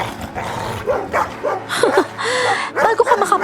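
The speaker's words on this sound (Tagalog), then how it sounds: "Umaangil lang naman yung dalawang aso" Two dogs growling and yipping as a sound effect in a Filipino horror audio drama, close and agitated, with a voice speaking briefly alongside.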